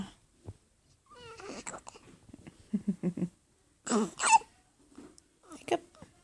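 A small child hiccups a few times, short sharp catches scattered among an adult's nearby chatter and other household sounds.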